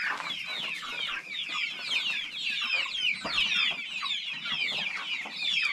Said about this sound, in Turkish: Bunlarda etlik civcivlerim var, normal yumurta civcivleri var.